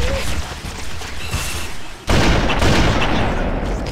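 Gunfire rattles through a Halo: Combat Evolved firefight, a dense, loud barrage that grows heavier halfway through, with voices talking over the battle noise.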